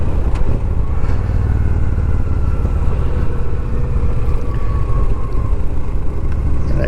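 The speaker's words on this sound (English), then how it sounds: "Of course I let off the gas and I'm slowing down." A motorcycle decelerates off the throttle on the road, a loud close engine rumble with faint wind noise that gradually eases as the bike slows.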